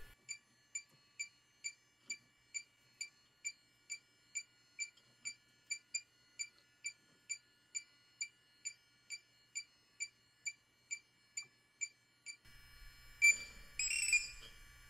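An Accutools EL520 refrigerant leak detector for 410A beeps in a fast, even run of short, high electronic chirps, close and clear, before the pattern breaks into a burst of louder, busier tones near the end.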